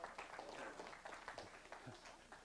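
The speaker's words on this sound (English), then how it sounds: "I never got applause from older people like this before" Scattered applause from an older audience at a spaceflight history lecture, a steady patter of hand claps with some uneven bursts, moderately close and continuous without speech.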